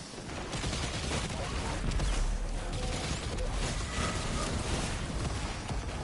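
Rapid gunfire from the Osteo Striga weapon in the Destiny 2 game, a dense continuous crackle of shots layered with game noise at a steady loud level.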